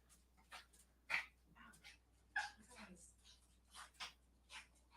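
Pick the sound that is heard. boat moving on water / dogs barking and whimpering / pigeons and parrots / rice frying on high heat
dogs barking and whimpering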